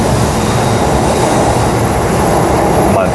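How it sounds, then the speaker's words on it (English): A B-series electric commuter train pulls into a suburban station, a steady loud broadband rumble and rolling hiss that holds constant from start to end, with no voices. "Might be the Ellenbrook train coming back."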